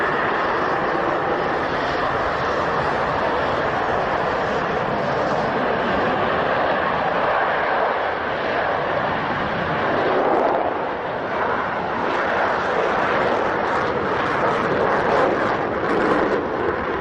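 Concorde airliner engines roar in a steady, broad, loud rumble that swells slightly midway, continuing for the full length without voices.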